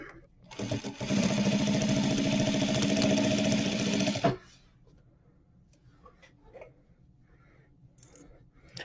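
A sewing machine stitching a seam in aged, stretched leather runs in one loud, fast, steady burst of about three seconds, then stops. Soft handling noises and faint clicks follow.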